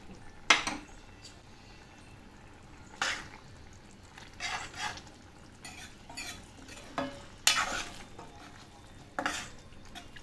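Small diced paneer pieces stirred into a Kolhapuri vegetable gravy in a pan, with a few sharp scraping and clinking spoon strikes against metal over a faint low simmer, no voices.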